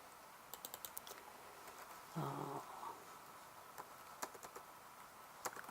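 Keys on a computer keyboard click in short, quiet bursts of typing, spaced between pauses, with a brief low hum in the middle; no one speaks.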